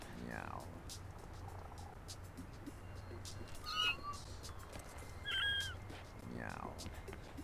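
A cat meows twice in the video game No More Heroes, once near the start and again near the end, over a low steady hum with a few brief electronic chirps between.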